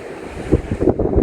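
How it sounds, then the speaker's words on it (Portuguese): Strong wind buffets the microphone beside a hotel infinity pool facing the sea in Macaé, a loud, uneven rush of gusts with a low surf-like roar underneath. "Só que agora tá ventando muito."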